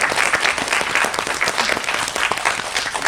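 An audience at a film screening and director's Q&A breaks into applause, giving a full, continuous wash of many hands clapping for about three seconds with no talk over it.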